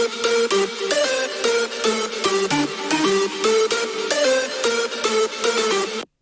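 Layered hardstyle synth leads built in FL Studio, with extra mid-range body, play a loud, dense riff of rhythmic stabs and sustained notes in the full mix, cutting off abruptly at the end.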